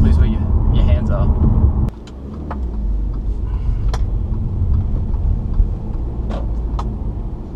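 A 2013 Audi A5 with the 1.8 TSI engine cruises through suburban streets, giving a steady low engine and road rumble from inside the cabin with brief clicks and thumps now and then.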